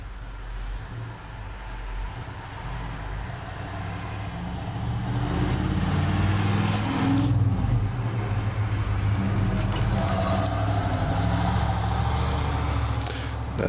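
A truck powered by a Plymouth 383 Super Commando V8 runs steadily nearby, its engine rumble growing louder and fuller partway through and holding a low, continuous drone with no talking.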